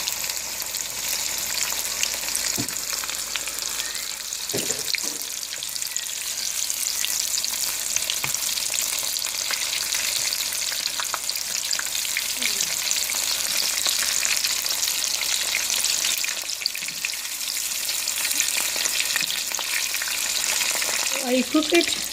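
Breaded chicken fries in oil in a shallow frying pan, giving a steady close sizzle with occasional pops and crackles throughout, no talking.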